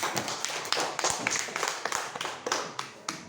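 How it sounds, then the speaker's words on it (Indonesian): A classroom of students clapping hands together, a dense run of sharp claps close by with no talking. "Iya, tepuk tangan."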